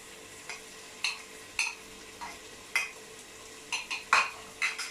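Egg being stirred in a pan while cooking fried rice, with a series of light scraping clicks and brief spatula-on-pan taps spaced irregularly over a soft sizzle, close and fairly quiet, with no talking.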